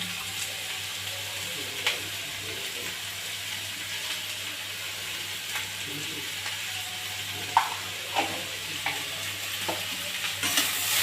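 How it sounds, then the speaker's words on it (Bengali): Potatoes fry in a pan with turmeric, giving a soft, steady sizzle. Faint stirring scrapes and clicks break through it now and then, with no talking. "আলুটা ভালো করে নেড়ে একটু হলুদ দিয়ে দেবো।"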